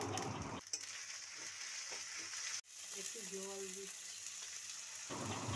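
Cumin paste and other ground spice pastes fry in a pan for a soya chunk curry, a soft, steady sizzling hiss with brief quieter gaps and a faint tonal murmur partway through.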